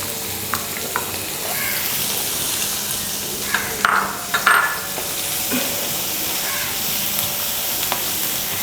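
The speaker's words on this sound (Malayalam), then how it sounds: "അതിനുശേഷം നമുക്ക് കട്ട് ചെയ്ത് വെച്ചിരിക്കുന്ന സവാള ഇടാം." Sliced onions frying in an oil-filled pan for stuffed squid, an even, steady sizzle with a few utensil clinks and scrapes as they are stirred, close and continuous without speech.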